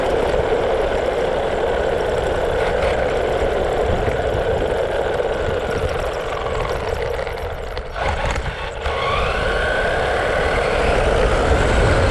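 A Legendary RC truck on a 3S battery with a heavy camera strapped to the back runs steadily. Its motor gives a loud, continuous whine and rumble throughout, with a brief dip near the end before the sound returns at full strength.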